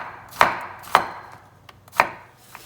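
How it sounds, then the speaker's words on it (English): A knife chops squash on a cutting board in three sharp, evenly spaced thuds with a couple of lighter taps, close and clear, with no voices. "cut them about the same size that you did the zucchini"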